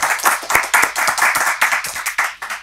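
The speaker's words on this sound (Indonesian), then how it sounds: "Tepuk tangan buat Profesor Haji Nazarudin Umar." Audience clapping for Professor Haji Nazarudin Umar, Indonesia's Minister of Religious Affairs, as he joins a talk show; a modest group clapping in distinct, rhythmic bursts, close and clear, with no speech.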